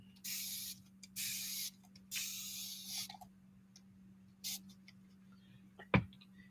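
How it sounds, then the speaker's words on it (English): A spray bottle hisses water onto paper in several short bursts, a few quick pumps followed by pauses, close up and fairly quiet, ending with a click. "And now let me spray water on it."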